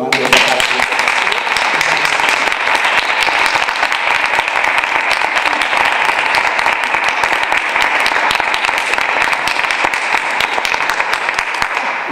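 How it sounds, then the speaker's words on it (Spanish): Sustained audience applause after a talk on Romero Esteo, steady and dense throughout with no gaps, filling the hall at a constant level. "yo creo que le podemos dar un aplauso"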